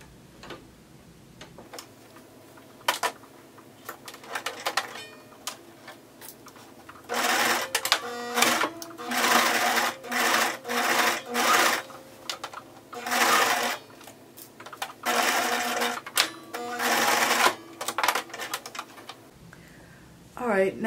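A home sewing machine fitted with a zipper foot stitching a maxi circle skirt, running in a series of short bursts with pauses between, its fast rhythmic ticking whir close and clear.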